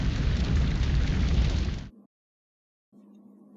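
Bombs exploding on Abbeville airfield as a sound effect in a B-17 Flying Fortress board game: a loud, sustained rumbling blast that cuts off abruptly, then silence and a faint low hum.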